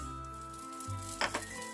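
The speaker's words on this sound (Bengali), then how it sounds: "ঘিটা গলে যাওয়ার পরে এবার এর মধ্যে দিয়ে দিচ্ছি চালটা।" Gobindobhog rice being fried in melted ghee in a wok over a gas flame: a quiet steady sizzle with a faint hum, and a couple of brief clinks as the grains are stirred.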